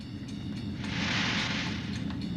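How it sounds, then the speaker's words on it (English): A nitrous oxide bottle overheats and bursts in the pit area of the Notre Dame unlimited hydroplane crew, a broad hissing roar that swells midway and then eases off over a low rumbling background. "a nitrous oxide bottle overheats and blows"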